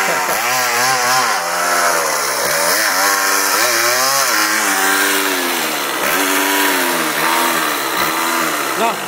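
A small Yamaha DT 50 motorcycle engine runs close by, a loud, buzzing two-stroke note that rises and falls continuously as the throttle is blipped and revved.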